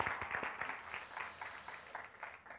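A church congregation applauds a young man named Minsu who has just returned from military service; the clapping is brief and moderately quiet, with individual claps audible in a loose, uneven patter.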